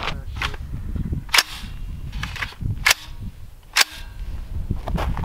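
R3dNeck minigun firing in short separate bursts, three sharp loud cracks standing out over steady background noise, with no talking.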